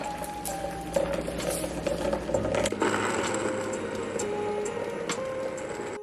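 A nut milk machine whirs and clicks while making walnut milk, a quiet mechanical hum with tonal whines and a shift in its motor sound partway through, with no voices.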